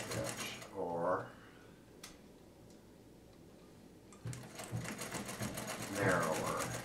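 A vintage Bel Air sewing machine runs a zigzag stitch in two stretches of fast, even mechanical ticking and whirring up close, separated by a pause; a person talks over part of it.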